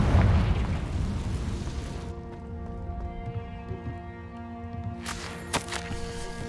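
Spell blasts in Hogwarts Legacy, a loud booming explosion at the start that fades into a ringing tail, then a second sharp burst near the end.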